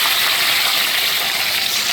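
Tomatoes and onions tipped together into a hot frying pan give a loud, steady sizzle and hiss that holds without a break and with no voices over it.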